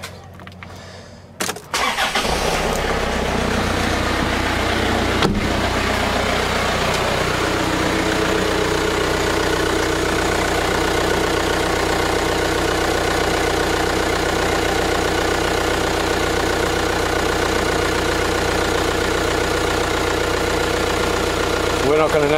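A 2008 Hyundai Santa Fe engine cranks and fires after a short quiet start, then settles into a loud, steady idle held close to the microphone for the rest of the clip.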